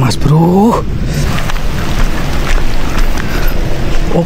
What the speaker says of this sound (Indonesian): ini situasinya hujan soalnya